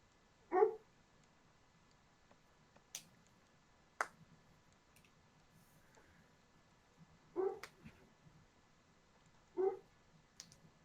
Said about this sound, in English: I'm so sorry for my neighbor's dog